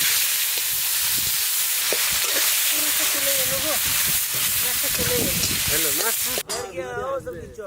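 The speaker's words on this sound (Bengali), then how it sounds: "তেজপাতা আর গোটা জিরে ফোড়ন দিয়ে দেবো পেঁয়াজ কুচি" Bay leaf, whole cumin and chopped onion hit hot oil for a fish curry, giving a loud, steady sizzling hiss up close, with a voice talking over it before a sharp clatter near the end.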